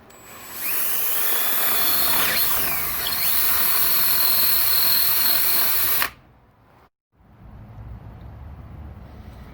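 A power drill with a larger bit bores into a wooden firestick handle, a loud, steady high whine for several seconds that stops abruptly, followed by quieter handling noise.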